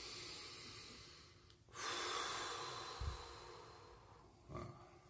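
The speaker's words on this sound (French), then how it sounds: "3 bonnes respirations." Deep breathing exercise: a couple of long, forceful breaths through the nose, close and loud, with a short sharp intake between them and nothing else around.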